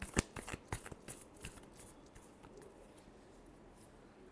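Tarot cards shuffled by hand, a run of quick riffling snaps and flutters close up at the start, thinning into softer card slides, quiet and with no talking.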